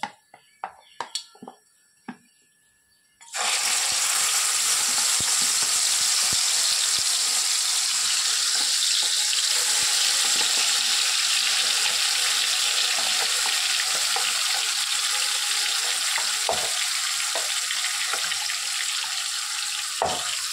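Fenugreek seeds and a prepared paste fry in oil for a mango and fish curry: a few clinks first, then a sudden loud, sustained sizzle as the paste hits the pan, with occasional stirring taps.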